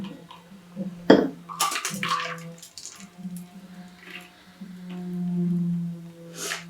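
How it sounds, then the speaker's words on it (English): A cocktail, a dandelion bees knees, is poured from the larger side of a shaker through a strainer, giving a soft trickling, splashing liquid stream with a clink of metal near the start. "pour from this larger side with my strainer."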